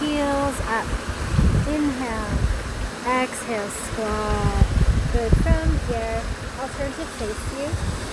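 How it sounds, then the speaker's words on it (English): Dark Hollow Falls pours as a steady broadband rush of falling water in the background, running continuously beneath a woman giving yoga instructions outdoors. "You can hear the waterfall behind me."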